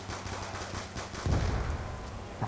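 Five-seveN pistols firing in Black Ops 2 Zombies, a rapid string of close, loud shots in quick bursts, with a heavier impact thump midway.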